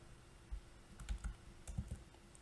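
Keys clack on a computer keyboard during database work, a few short bursts of clustered taps with pauses between, close and fairly quiet with no voices.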